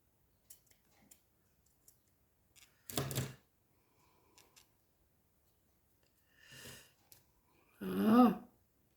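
Scissors make a few short, crisp snips while trimming the edge of a small embroidered card frame. The cuts come in separate bursts with quiet gaps between them, close and fairly soft.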